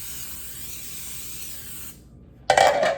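A short, loud burst of cooking spray into a cake pan hisses after a quiet moment, following steady background hiss.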